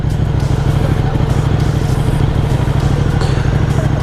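Motorcycle engine droning steadily while riding, loud and close with a rough, pulsing low rumble throughout and no talking.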